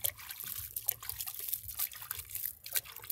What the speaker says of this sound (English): I'm improvising using this bucket. So you water nicely like this.